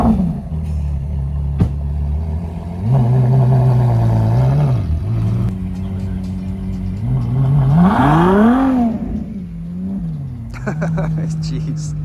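A Ferrari SP3 Daytona hypercar spins on a grass field at a concours event, its engine droning and rising and falling in pitch through revving sweeps, while people talk loudly close by over the engine.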